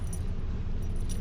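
Keys for a Dodge Challenger Hellcat jangle close by in a brief, continuous metallic rattle over a low background rumble, with no one talking.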